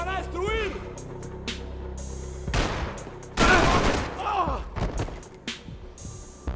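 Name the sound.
gunfire shootout in video game Max Payne 3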